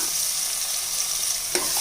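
A spatula stirs masala with ginger-garlic paste frying in a pan, a steady sizzle with a couple of scraping strokes near the end.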